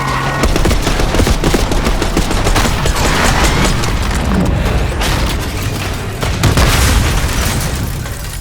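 Gunfire and explosions from the video game Call of Duty: Black Ops 6, with heavy booms and dense rattling automatic fire layered into a loud, continuous barrage that barely lets up from start to finish.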